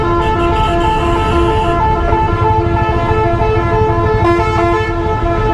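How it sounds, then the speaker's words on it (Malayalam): Car horns honking in dense Punjab city traffic crowded with rickshaws, loud, steady and sustained, with layered blaring tones and a brief toot near the start over a constant engine rumble. "ട്രാഫിക്കും അതിൻ്റെ ഇടയ്ക്ക് ഹോണടി."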